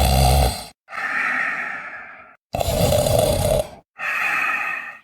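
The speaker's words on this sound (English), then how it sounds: "A low, deep snore with up and down rhythm, like a cow moving in sleep." Low, deep snoring in an up-and-down rhythm, four long rasping breaths separated by short silences, close and loud with no voices.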